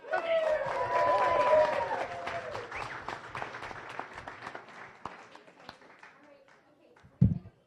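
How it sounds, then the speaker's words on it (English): Audience at a Las Vegas Rotary Club meeting breaks into a burst of applause, strongest at first then tapering into scattered claps, with voices over it and a sharp knock near the end. "Okay, everybody give her a big round of applause."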